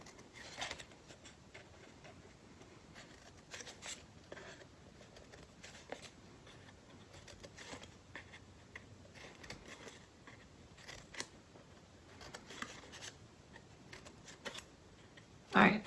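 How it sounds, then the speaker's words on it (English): Scissors cutting small slits into paper and cardboard during an art lesson, producing soft, scattered snips and crunches over about sixteen seconds against a quiet background. "you're just going to put a little cut into the paper like I'm doing, into the paper and cardboard."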